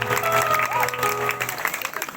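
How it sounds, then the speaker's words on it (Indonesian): Audience applause during a Balinese stage performance, a brief round of clapping mixed with a voice and background music. "titiang bina tepuk tangan macar semeton titiang sareng senamian."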